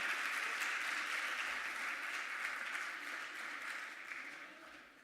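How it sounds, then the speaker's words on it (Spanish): An audience at a candidates' forum on culture and the creative economy applauds continuously for several seconds, a dense, even clatter of many hands that fades slightly toward the end. "les vamos a pedir un aplauso para ellos"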